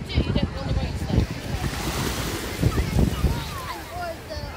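Sea waves wash continuously onto the beach at Weymouth, a broad steady surf roar mixed with gusty wind noise on the microphone and no clear individual breakers.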